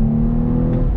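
A 2020 Chevy Camaro RS 1LE engine pulls hard on throttle through a bend, a loud, steady droning growl recorded close up with no talking.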